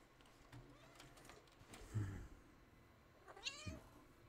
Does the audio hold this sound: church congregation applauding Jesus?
no